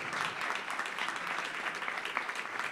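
Audience applause at an awards ceremony, dense and steady clapping from a crowd throughout, fairly close and even in loudness.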